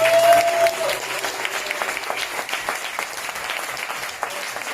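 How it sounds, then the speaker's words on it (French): Audience applause at an evening concert in a small café, a dense steady clatter of many hands filling the room, loudest at the start then holding level, with a brief tone fading early on. "Vous pouvez les applaudir bien fort."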